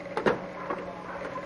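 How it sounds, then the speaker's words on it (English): Mechanical clunks and a brief whir as the actuating arm of an old sewing machine raises its inner carriage to the vertical position, two close knocks followed by fainter movement and a low steady background hum. "the actuating arm moves and raises the carriage inside the sewing machine all the way up to the vertical position"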